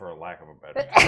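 A sharp, sudden sneeze bursts out right after someone speaks, loud and close at the very end.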